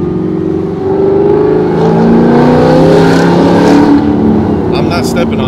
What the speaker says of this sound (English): This car is so loud,